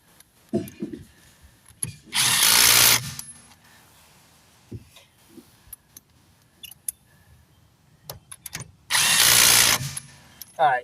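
Two loud bursts of a power tool run down lug nuts on a rotated tire of a 2004 Honda Santa Fe, each lasting about a second, with scattered clanks and tool handling in between.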